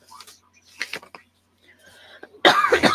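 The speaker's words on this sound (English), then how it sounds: "Lots of coughing going on over here." Several scattered coughs, quieter at first, then a loud harsh cough fit at the end, close to the microphone.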